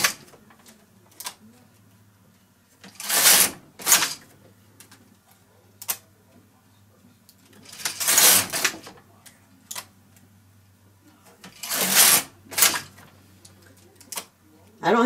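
A knitting machine carriage is pulled back and forth across the needle bed while double-layer slippers are knitted, giving three loud sliding, clattering sweeps spaced a few seconds apart over a low steady hum, with a voice talking between passes.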